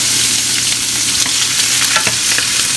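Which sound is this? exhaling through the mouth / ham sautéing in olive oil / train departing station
ham sautéing in olive oil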